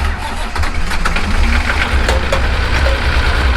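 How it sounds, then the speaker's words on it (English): A farm machine's engine, pre-warmed with glow plugs, cranks and catches close by, then settles into a loud, rough, knocking idle as it begins warming up. "Now we're gonna get our engine started and warm this up."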